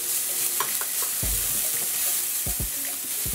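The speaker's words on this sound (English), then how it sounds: "I'm going to go in with some finely grated carrots. And we're going to saute this." Minced hot peppers and finely grated carrots sauté in a pan, giving a steady hissing sizzle with a few sharp spoon scrapes and taps as they are stirred.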